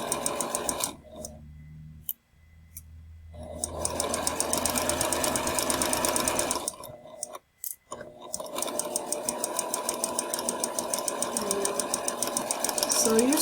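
A sewing machine stitches a quarter-inch seam in rapid, even, close-up bursts of needle clatter, stopping briefly twice before running on steadily, while someone talks over it.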